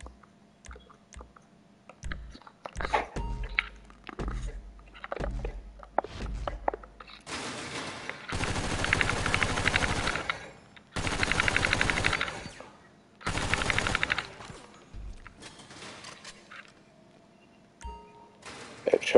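Submachine gun fire at a Grand Theft Auto 5 shooting range: scattered single clicks and shots at first, then several long, loud automatic bursts separated by brief pauses, with sharper pops trailing off near the end.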